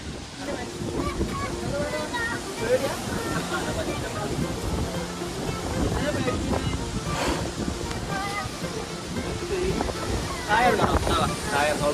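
Surf washes in a constant, rushing wash of waves with gusts of wind buffeting the microphone, and voices chatter faintly now and then.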